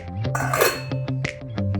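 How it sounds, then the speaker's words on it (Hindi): Metal kitchen ware, a rice cooker and its pot, clinks and clatters close by in a run of sharp taps with one louder scraping rattle in the middle, with no talking. "तो ये रहा मेरा राइस कुकर"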